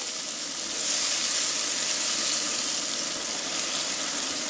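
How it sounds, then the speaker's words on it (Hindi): Steady, loud sizzling hiss of a paste frying in a hot pan, continuous throughout with no voices. "मसाला भून लेते हैं"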